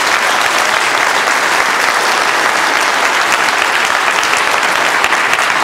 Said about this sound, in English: A huge round of applause for both those companies.